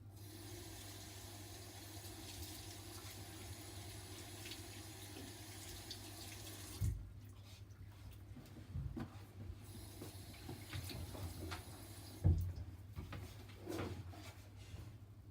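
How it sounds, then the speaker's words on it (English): A kitchen tap runs while hands are washed with soap, a steady faint hiss of water that stops partway through and gives way to soft rubbing and splashing sounds. "First, you have to wash your hands."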